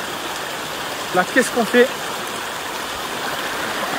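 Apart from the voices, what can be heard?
mountain river stream flowing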